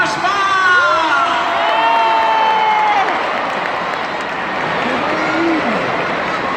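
A large outdoor crowd cheers, shouts and applauds continuously at the arrival of King Gaspar, one of the Three Wise Men, at Las Gaunas; raised voices and whoops carry over the sustained roar.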